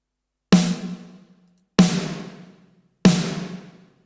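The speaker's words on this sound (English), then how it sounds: "just two different snare samples which have a lot of ambience" Three separate snare drum hits, each followed by a long roomy reverb tail, evenly spaced with silence between them.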